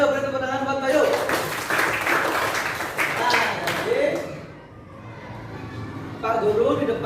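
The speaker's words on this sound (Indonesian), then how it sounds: "beri tepuk tangan buat Bayu" A classroom of students claps for a classmate, with a burst of scattered applause rising and fading while a teacher keeps talking over it.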